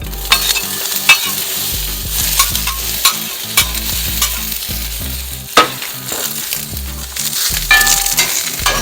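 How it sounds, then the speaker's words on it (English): Onions being spread and sizzling on a hot griddle for smash burgers: a loud, steady frying hiss under repeated scraping and stirring strokes of a spatula, close up with no talk. "all we gotta do, guys, is spread our onions"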